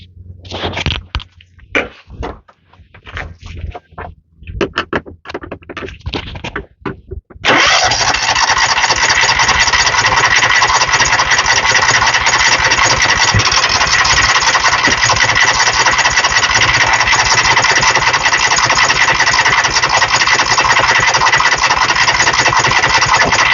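Engine on a second start attempt after a suspected fuel pump problem, with uneven cranking and sputtering bursts that catch about a third of the way through and run as a loud, steady, close roar to the end.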